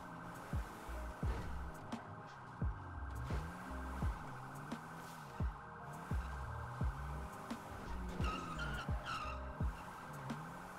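A car skids repeatedly during a getaway in a video game, with recurring tire squeals and thumps over a steady engine drone, and a siren-like tone rising near the end.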